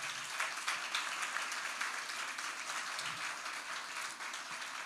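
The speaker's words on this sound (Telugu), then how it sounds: "ఒకసారి మా నాన్నగారికి చప్పట్లు కొట్టరా ప్లీజ్" A graduation ceremony crowd in an auditorium applauds, a dense, steady wash of many hands clapping for several seconds, slightly distant and even.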